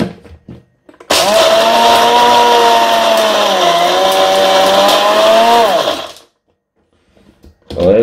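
A kitchen blender whirs loudly for about five seconds, mixing oat flakes into yogurt with peanuts, a steady close motor drone that dips briefly mid-run before cutting off.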